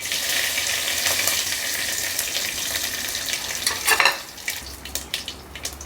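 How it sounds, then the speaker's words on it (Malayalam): Mustard seeds pop and dried red chillies fry in hot oil in a pan while a Kerala-style duck roast is cooked. A continuous close sizzle carries scattered sharp crackles that grow louder near the end. "കടുക് പൊട്ടുന്നുണ്ട്."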